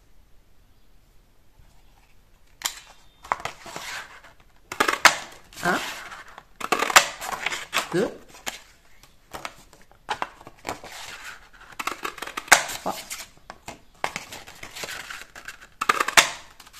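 A circle paper punch cuts rounds from patterned craft paper, giving a series of sharp crunching clicks in irregular bursts that are close and distinct against quiet, with a voice counting briefly.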